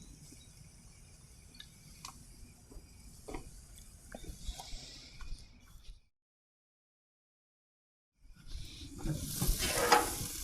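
Beef fajita steak sizzling on a grill, a soft steady hiss with small pops and ticks, cutting out for a short silence before a louder burst of sizzle returns.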